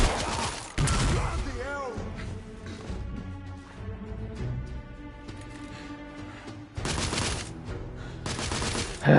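A grenade blast and surrounding gunfire in The Order: 1886, with a heavy boom up front followed by scattered shots and later renewed loud bursts, as voices shout over the combat.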